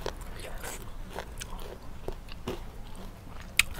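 Crispy pork crackling being bitten and chewed at a home meal of Thai-Lao spicy salad with rice noodles, giving soft crunchy chews throughout and one sharp, louder crack near the end.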